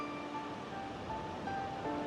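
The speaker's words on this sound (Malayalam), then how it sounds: "അതിരപ്പള്ളി വെള്ളച്ചാട്ടത്തിന്റെ വലിയ പാറകൾക്ക് ചുറ്റും വെള്ളം ഉയർന്ന് 3 വ്യത്യസ്ത സ്ട്രീമുകളിലായിട്ടാണ് താഴേക്ക് വീഴുന്നത്." Steady, dense rushing of the Athirappilly waterfall as water falls in streams around large rocks. The roar stays constant and heard from nearby.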